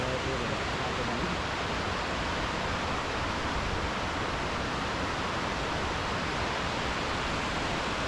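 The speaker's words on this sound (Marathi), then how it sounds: "इथे जो बांध बांधलेला आहे त्या बांधावरून जे पाणी जातं" Water pours over the dam at Vandri lake in a loud, continuous broadband rush that stays steady and close with no break.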